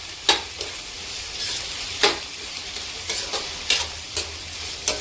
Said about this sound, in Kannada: ಮೆಣಸಿನ್ಕಾಯಿ ಎಲ್ಲ ಚೆನ್ನಾಗಿ ಫ್ರೈ ಆಗಲಿ